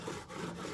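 Woodworking chisel rubbed back and forth on a sharpening stone, a short, close, gritty scraping with two quick strokes and no talking.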